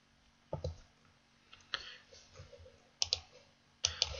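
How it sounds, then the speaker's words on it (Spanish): A computer mouse gives faint right-clicks up close in a quiet room: sharp little taps spaced out, some coming in quick pairs. "le damos aquí clic derecho"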